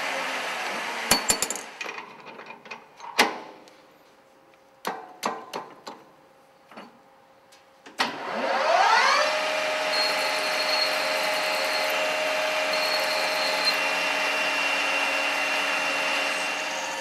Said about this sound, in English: Drilling a starting hole.